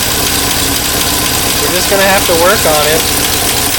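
1958 Studebaker Commander engine idling with a steady, fairly smooth low rumble, heard close up under a voice.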